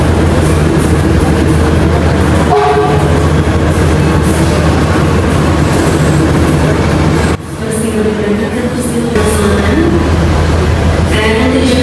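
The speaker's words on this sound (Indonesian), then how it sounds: "ke Solo ini, saya pakai KRL Commuter Line." Inside a KRL Commuter Line electric train travelling from Yogyakarta to Solo, a steady loud rumble of wheels and carriage runs throughout, with brief shifts in tone and a short dip partway.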